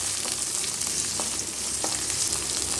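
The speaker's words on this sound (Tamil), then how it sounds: "நாங்கள் வந்து பச்சை மிளகாய் போட்டு வணக்கிறோம்" Cumin and green chillies fry in hot oil in a pan, making a steady, dense crackling sizzle close up, with a couple of faint taps over the hiss.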